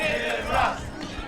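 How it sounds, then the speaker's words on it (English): Spectators at a CIF-SS high school baseball game, Crescenta Valley at Arcadia, cheer and yell for their pitcher in a brief, steady roar of crowd noise. "this crowd is going crazy here for Caden Ross"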